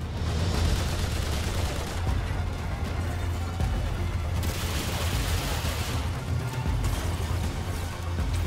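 Sustained gunfire from the game Remnant 2 aimed at a floating orb, a dense continuous clatter of shots with booming low-end impacts running loud and steady throughout.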